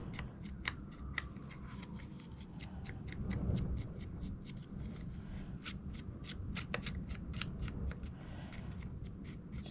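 Small scissors snip around a paper butterfly in a steady series of quick, crisp cuts, close and fairly quiet over a low background hum.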